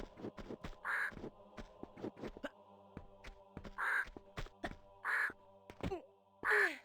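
Crows cawing in the video game Tomb Raider at Barkhang Monastery, several loud harsh caws spaced a second or so apart over a backdrop of clicking, thudding game sounds.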